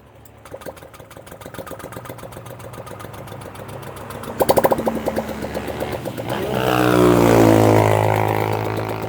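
A Honda Click 125i scooter engine, freshly running after a top overhaul for overheating, idles on its stand with a rapid mechanical putter that starts low, then swells into a louder, rougher rev near the end before easing off.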